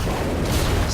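A single heavy blast from an ion cannon in the Ratchet and Clank video game fills the whole moment as a dense, loud, rumbling boom heard up close.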